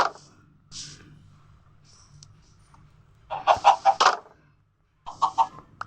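Minecraft chickens clucking in short bursts, a few scattered clucks early on, then a louder cluster of clucks and a final burst near the end, with no talking.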